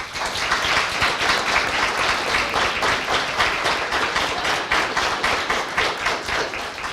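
An audience claps steadily for several seconds at a community First Friday event, a dense and even wash of many hands at close range with no talking over it.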